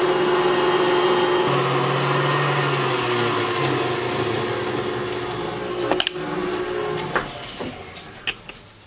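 An electric mixer whips egg whites for waffles, a steady close whirring drone that shifts pitch as the speed changes, ending with a few knocks and clatters and no talking.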